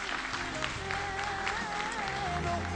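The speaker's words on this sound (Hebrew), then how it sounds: "מגיע לו מחיאות כפיים" An audience in Jerusalem claps steadily and continuously, close and even-toned, with faint crowd murmur and a voice underneath.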